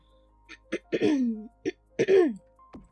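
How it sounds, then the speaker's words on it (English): A person clears their throat several times in short, rough bursts with brief pauses between, close up and fairly loud. "Sorry that I'm clearing my throat."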